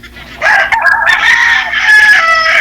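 Fighting roosters kept for cockfighting crow loudly and close by, overlapping calls filling the whole stretch with strained, sustained cock-a-doodle-doos and no talking.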